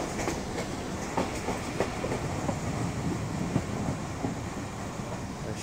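A Jaffar Express train rolling along slowly as it nears Shahdara Bagh junction, with a steady rumble of wheels and scattered soft clicks of rail joints, heard from inside the train without talk.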